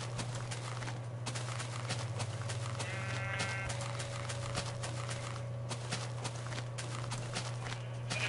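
Sheep bleats in a Minecraft cave level, one short wavering bleat over a steady game hum with scattered clicks and footstep-like ticks, no talking.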